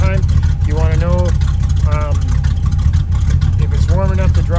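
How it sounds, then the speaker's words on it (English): A warmed-up car engine idles steadily in gear, a continuous low rumble running the whole time beneath a man's speech. "Right now it's warm enough to drive, see, because it's in gear and it's idling on its own."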